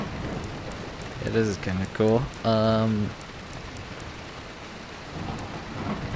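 Thunder and rain in the Assetto Corsa Evo racing game: a steady hiss of rain with low rolling rumbles beneath, while someone talks briefly over it.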